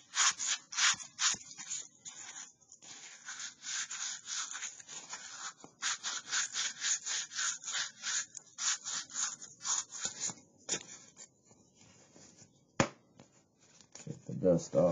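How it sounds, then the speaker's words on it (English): Worn, overused sandpaper rubs against a whittled wooden clothespin in quick, close, rhythmic strokes that continue steadily with brief pauses. "what I'm really doing is I'm just trying to see how far I can get on one overused piece of sandpaper at this point"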